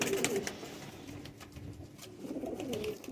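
Teddy pigeon cooing in a breeding setup, soft low rolling coos repeating at close range, with a quieter gap in the middle before the calls return.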